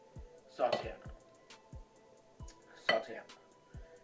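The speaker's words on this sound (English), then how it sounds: "You want to get a spoon, and you want to stir your mixture of sultanas" A spoon clinks and scrapes against a bowl while stirring a mixture of sultanas, giving a few separate knocks and short scrapes at close range with soft background noise.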